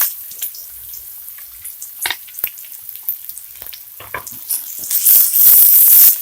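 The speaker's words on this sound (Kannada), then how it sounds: "ಈಗ ಈರುಳ್ಳಿ ಹಾಕ್ತಾ ಇದ್ದೀನಿ." Onions dropped into hot ghee and oil crackle in scattered sharp bursts, quiet at first, then a loud, steady sizzle swells near the end as the pan is stirred.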